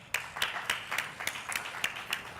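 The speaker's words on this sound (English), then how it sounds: "And if you could just please hold your applause till the end." An audience at the 2018 IC3 annual conference inauguration claps in a steady, evenly spaced rhythm of about nine crisp claps, moderately close and with no talking.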